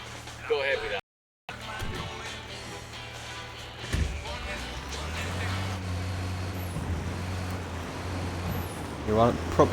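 A heavy truck engine rumbles and drones while a person talks over it, with a brief hiss of air brakes near the start, in the video game Ghost Recon: Wildlands.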